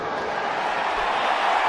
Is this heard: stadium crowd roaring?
yes